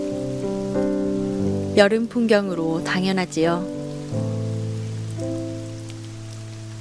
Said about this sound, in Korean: 뒤란 작은 대숲에 소나기 한바탕 쏟아졌습니다.